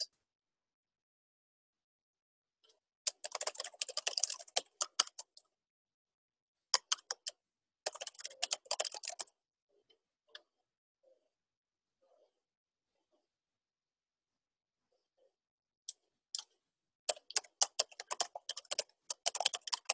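A password is typed on a computer keyboard in quick bursts of light clicking keystrokes, close and quiet, separated by pauses of near silence.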